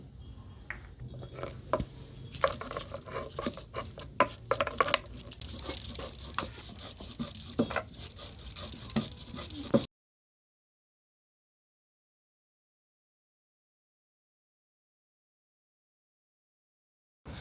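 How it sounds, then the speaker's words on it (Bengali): Fresh ginger and cumin seeds are ground together by hand, making about ten seconds of rough, rhythmic scraping, patting and small knocks that then stop abruptly into silence. "আদা আর জিরেটা একসঙ্গে বেটে নেব।"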